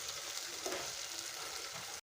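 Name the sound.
ginger garlic paste frying in pan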